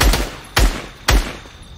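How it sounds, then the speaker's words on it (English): In Fortnite, a gun fires into bushes with three sharp, loud shots spaced about half a second apart, each leaving a brief decaying tail and no talking. "I'm just shooting in the bushes"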